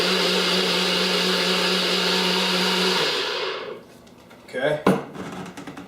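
An electric blender whirs steadily at high speed while mixing bulletproof coffee, then spins down after about three seconds, followed by a few clunks and handling noises.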